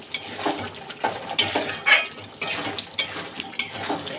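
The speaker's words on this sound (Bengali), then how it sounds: "এবার সব পনিরগুলো মিশিয়ে দিলাম" Paneer is stirred into cooked vegetables in a pan, a spoon scraping and clinking against the metal in repeated strokes about every half second, close and fairly loud.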